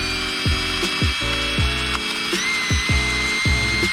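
A power drill spins a bent wire inside a hog skull, giving a steady high whine broken by rhythmic knocking clunks roughly every half second as the wire strikes bone.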